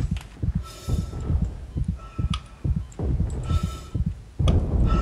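A heartbeat effect pulses through Dead Space 3 gameplay, delivering steady paired low thumps in a close, loud, regular rhythm that repeats for several seconds with no voice over it.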